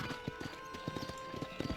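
Horse hoofbeats from riding in the Western video game Red Dead Redemption, a steady clip-clop of hooves at a brisk pace lasting under two seconds, with a faint musical hum in the background.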